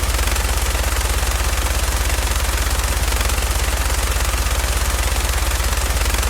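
A modded automatic weapon in Fallout 4 fires a continuous, rapid, evenly spaced stream of loud shots for several seconds without pause.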